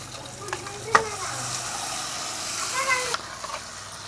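Cooked rice is stirred into a hot pan of fried tempering with asafoetida, giving a steady soft sizzle and hiss with a few scraping knocks of the spoon, close by.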